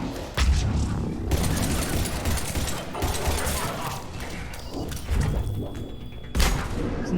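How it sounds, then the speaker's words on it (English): Grenades going off in a Mass Effect 3 combat scene, repeated heavy thumps and blasts mixed with scattered gunfire, and a voice speaking briefly among the explosions. "Throwing grenades at me."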